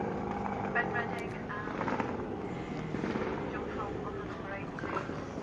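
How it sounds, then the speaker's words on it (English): Racing superbikes at Croft circuit, rough engine roars and crackling exhaust rasps passing over a constant background of track noise, with a commentator talking throughout. "dear God, the bikes are noisy"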